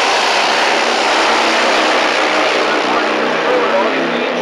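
Pro drag racing cars roar down the strip at a Las Vegas race with a loud, continuous engine blast at full throttle that holds steady and heavy throughout.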